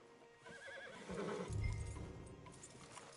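A horse in the video game Red Dead Redemption 2 gives a whinny while its hooves clop nearby, with a snort and some movement noise in the background.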